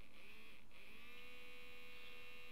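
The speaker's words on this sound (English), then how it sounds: "You can hear the motor is rotating at maximum speed." A small DC motor whirs steadily at full speed under variable-resistor control, a thin sustained electric whine with a faint hum, near and alone.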